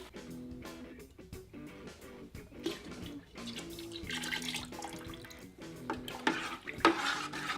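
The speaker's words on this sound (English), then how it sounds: "we brought the priming sugar to a boil. We need to let it boil for about 3 minutes" Priming sugar in water boils in a pot on the stove for home brewing, with close bubbling and soft stirring, splashing and dripping that continue steadily.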